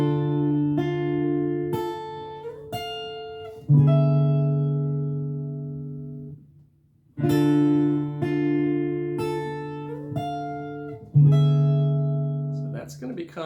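Opening of a musical piece: sustained, tonal notes struck in clear rhythmic groups, with a brief pause before the phrase repeats, played alone without voices.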